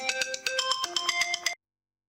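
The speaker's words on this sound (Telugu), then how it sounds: "మాధవ, రుద్రాణి ఫోన్ చేస్తుంది ఏంటి భూమి?" A mobile phone ringtone plays an incoming-call melody of bright, repeating electronic tones in a steady rhythm, loud and close, stopping abruptly after about a second and a half.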